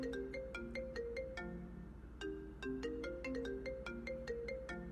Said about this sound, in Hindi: शाजिया के बाप का फोन है, क्या कहूं?